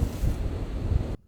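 Strong gusty wind roaring around a parked Tesla Cybertruck, a loud, steady broadband rush with surging gusts that cuts off abruptly near the end.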